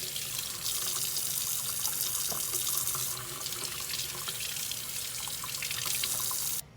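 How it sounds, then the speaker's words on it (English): Water runs steadily from a kitchen tap into a sink while eggs are washed, a close and continuous splashing stream that stops abruptly at the end. No one speaks. "I always wash off my eggs real good"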